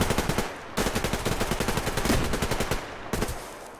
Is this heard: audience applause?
no